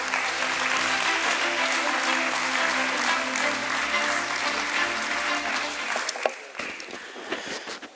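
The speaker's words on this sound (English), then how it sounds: "Let's welcome him with an applause, everyone." An audience at a company stock-exchange listing ceremony claps steadily in welcome, a dense, even burst of applause that thins and scatters into a few last claps near the end.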